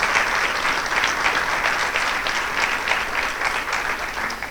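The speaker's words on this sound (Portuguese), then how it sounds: "uma salva de palmas." Audience applause at a formal ceremony in Chamusca launching a social innovation incubator network, steady dense clapping from a large crowd lasting throughout without a break.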